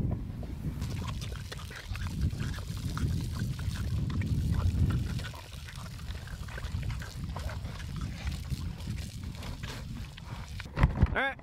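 Water trickles and pours into a pig watering point on a homestead, fed by a half-inch line, a continuous splashing flow with a brief sharper burst near the end.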